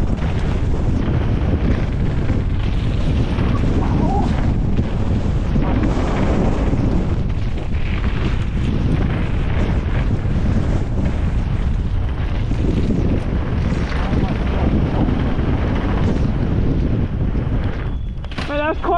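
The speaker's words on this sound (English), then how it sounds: "Quite windy." Strong wind buffets the microphone at a wet mountain bike park in Dyfi, a constant heavy roar with gusty surges lasting the whole stretch.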